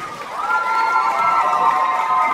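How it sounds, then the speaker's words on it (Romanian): A concert crowd at a wedding fair in Botosani Shopping Center cheers and applauds the organizers during a 2016 show, a dense, continuous roar of shouts and clapping that swells slightly and holds steady without a break. "să aplaudăm organizatorii!"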